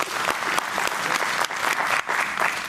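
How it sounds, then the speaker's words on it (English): An audience at a doctoral public lecture claps in sustained, dense applause that stays loud and even throughout, with no talking over it. "I think he deserves a round of applause"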